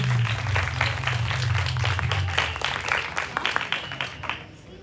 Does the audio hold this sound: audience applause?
yes